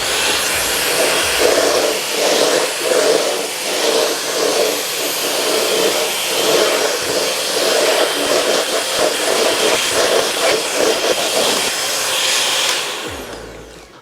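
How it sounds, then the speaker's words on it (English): Eureka lightweight corded stick vacuum running loudly and steadily for about thirteen seconds, a continuous whirring roar with airy hiss, close by and alone, then cutting off at the end. "But let's turn it on to test it out to see how it works."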